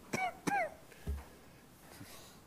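A man still recovering from COVID gives two sharp coughs close to the microphone, then a softer throat-clearing sound, in a quiet room at an agricultural economics forum.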